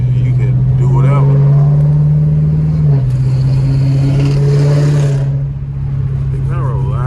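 A fifth-generation car engine drives through city streets, its loud steady drone dropping in pitch at a gear shift partway through, then holding a lower, even note.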